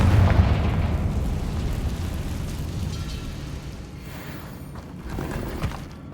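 A Confringo spell explodes in a Harry Potter video game with a heavy, rumbling boom that fades slowly, then a smaller second burst rises near the end.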